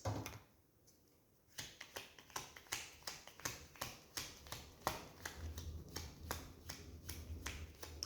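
Tarot cards are shuffled in a quick, regular series of crisp riffling snaps, close and soft, followed by cards being drawn, with no voices.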